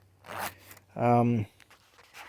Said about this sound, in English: You can see it's a metal zipper.